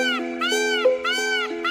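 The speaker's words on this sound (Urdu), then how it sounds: "مور کی آواز کا نام انگلش میں اسکریمنگ" A peacock screams in a run of loud, harmonic, wailing calls that rise and fall, repeating three times in quick succession and close by.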